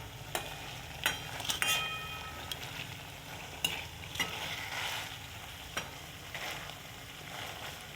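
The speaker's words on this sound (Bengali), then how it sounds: "এখন এই মাংসটা দিয়ে দেবো মশলার মধ্যে" Meat sizzles as it is stirred into a spice masala in a hot pan, with a steady frying hiss broken by sharp scrapes and clacks of the spoon against the pan.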